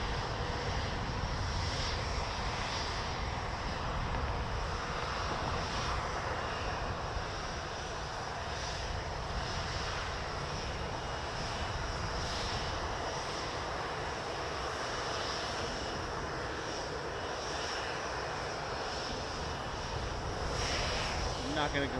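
Airliner engines, including a Boeing 787 Dreamliner, roar steadily at Toronto Pearson Airport, a broad, sustained jet rumble heard from a distance for the whole stretch, with someone talking over it.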